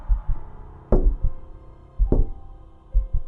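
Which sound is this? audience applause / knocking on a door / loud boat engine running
knocking on a door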